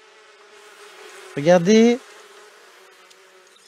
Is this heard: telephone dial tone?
no